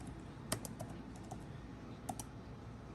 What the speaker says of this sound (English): it has some clickiness to it, and it does kind of sound like the keyboard on my MacBook Pro